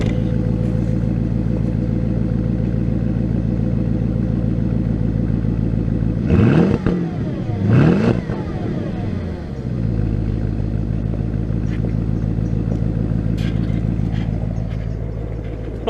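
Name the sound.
Porsche Cayenne Turbo engine revving through cheap modified exhaust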